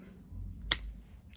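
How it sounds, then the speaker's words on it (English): A single crisp snap as a hot pepper is broken off the plant by hand at the stem, heard once and close against quiet outdoor background. "you can just break them from the stem like that"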